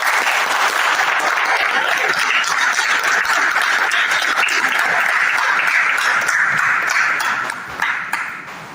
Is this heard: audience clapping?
yes